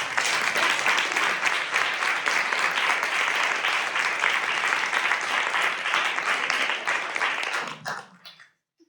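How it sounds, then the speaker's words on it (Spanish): An audience at a book presentation applauds loudly and continuously for about eight seconds before it stops abruptly. "Pues un aplauso también desde Madrid"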